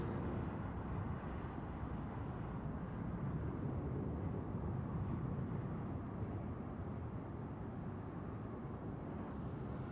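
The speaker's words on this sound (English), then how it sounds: "Second try for Turkish Airlines. Now again on final." Turkish Airlines airliner on final approach at Zurich Airport, a constant broad rumbling roar that holds steady and moderately loud with no talk.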